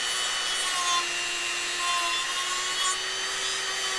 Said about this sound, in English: So we're just going to use the sanding drum.